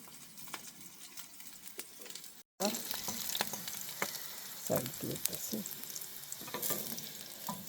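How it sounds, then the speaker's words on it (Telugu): Okra sizzling and crackling steadily in hot oil for a Telangana okra roti pachadi, with occasional stirring scrapes; a brief cut near the start, no voices. "బెండకాయలు అన్నీ మంచిగా ఫ్రై అయిపోయాయి"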